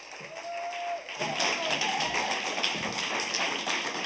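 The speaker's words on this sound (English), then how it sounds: "Let's give him a round of applause." Audience applause for a young performer at a youth awards ceremony: dense, steady clapping from a large crowd that swells in after a brief quieter opening and carries on loudly to the end.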